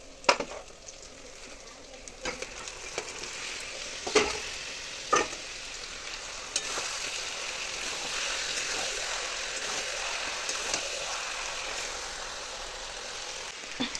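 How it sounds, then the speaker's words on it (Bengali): Chicken pieces sizzle and fry in a pan with garlic, a steady soft crackle running throughout, broken by occasional scraping and clattering knocks as a spoon stirs them. "তো এবার চিকেনটা দিয়ে দেবো এর মধ্যে।"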